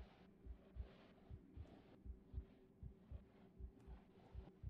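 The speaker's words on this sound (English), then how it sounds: "Why is there a heartbeat going?" A faint, steady heartbeat thumps in pairs at an even pace inside the game Among the Sleep, low and muffled over a quiet hum.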